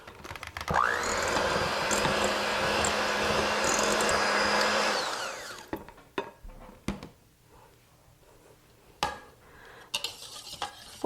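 An electric mixer whirs steadily through cake batter with vanilla extract for an old-fashioned apple sauce cake, running loud and close for about five seconds before switching off, followed by a few light clinks and knocks.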